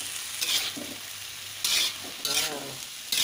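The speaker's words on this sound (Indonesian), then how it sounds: "Kita aduk." A spatula stirs a chayote and carrot stir-fry in a pan, soft scraping strokes over a low, steady sizzle, close and fairly quiet with no talking.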